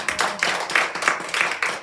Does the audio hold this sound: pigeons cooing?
no